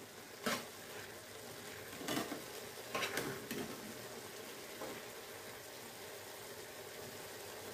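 Korean ramen noodles cook in a pan with a faint, steady simmering sizzle, broken by a few soft utensil knocks and stirring scrapes spaced across the stretch, quiet and without speech.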